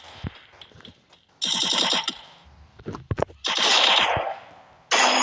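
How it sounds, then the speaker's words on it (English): Video game gunfire in short rapid automatic bursts, several separate volleys with brief gaps between them, loud and close with no one talking. "Press the fire button to shoot when the crosshair changes color."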